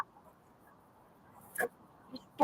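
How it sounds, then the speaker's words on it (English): A dog named Whiskey gives a few short, sharp barks indoors, two quick bursts then a final louder one, separated by quiet room noise. "He's barking at me."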